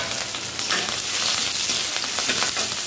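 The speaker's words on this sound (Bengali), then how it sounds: "আর এদিকে তোমার এই যে পেঁয়াজ লঙ্কা ভেজে নেবো।" Onion and green chilli fry in a pan, a steady close sizzle with faint crackles and the occasional stir, loud and continuous with no voices.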